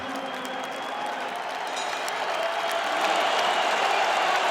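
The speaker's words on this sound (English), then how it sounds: "Huge ovation inside the Kingdom Arena. Everybody applauding these two warriors." A large arena crowd at the Kingdom Arena applauds boxers Tyson Fury and Oleksandr Usyk before the final round of their heavyweight fight, steady dense clapping swelling louder.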